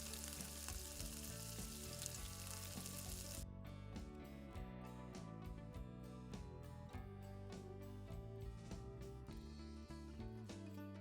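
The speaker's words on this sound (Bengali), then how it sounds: "এবারে ম্যারিনেট করে রাখা পনিরগুলি দিয়ে উল্টে পাল্টে ভেজে নেব" Marinated paneer fries in a pan of butter and oil, a soft, steady sizzle that is clearest at first and then sits quietly beneath prominent background music with a tuneful melody.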